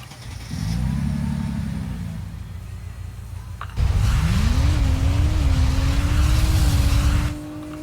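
A V12 sports car engine in the racing game Drive World idles low, then surges loud and close into hard acceleration, its rising tone climbing and holding steady before cutting off near the end.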